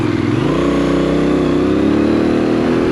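A Benelli 752S naked sports bike on a test ride, its engine loud and close with a rising, steady growl as the rider accelerates, filling the whole moment with no voices.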